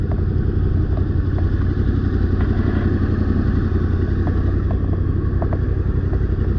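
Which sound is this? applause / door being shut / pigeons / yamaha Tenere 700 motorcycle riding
yamaha Tenere 700 motorcycle riding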